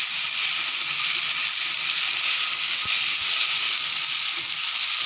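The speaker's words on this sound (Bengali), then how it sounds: "মশলাটাকে অ্যাড করে আমি ভালো করে তেলের মধ্যে কষিয়ে নেব" Spice paste frying in hot oil, a steady bright sizzle that stays loud and even throughout, with one soft stir knock partway.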